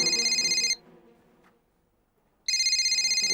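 A phone rings loudly in a home in an Indian sitcom, a bright electronic trilling ring that stops for nearly two seconds of near silence and then starts again, with no talking.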